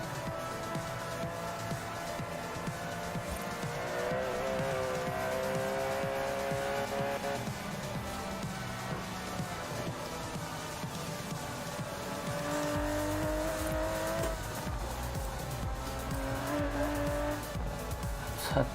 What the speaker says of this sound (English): It's an Aston Martin.